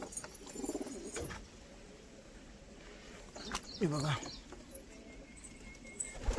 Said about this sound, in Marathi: कबूतर आहेत.